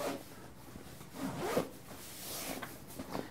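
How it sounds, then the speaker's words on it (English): The compression zipper of a travel packing cube drawn along in several tugs, with rubbing fabric and a few pauses, close up and moderately quiet. "So I haven't compressed it yet, which is the middle zipper right here."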